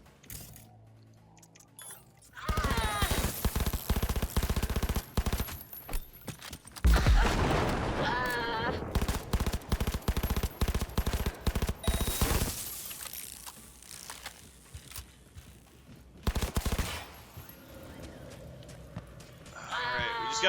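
Video game gunfire comes in rapid, dense bursts of shots across several stretches, with mechanical clatter and game voices mixed in between the volleys.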